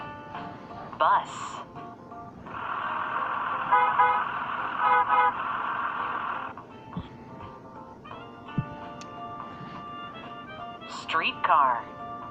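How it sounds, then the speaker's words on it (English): A bus horn gives a sustained honk over the low rumble of the vehicle driving, loud and steady for several seconds, followed by quieter engine noise and brief short toots. "Bus."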